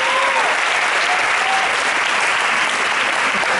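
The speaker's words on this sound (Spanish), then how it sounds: "Un aplauso para el señor Klaus" Sustained applause from a festival storytelling audience, dense and steady for the whole stretch, with no voices rising above it.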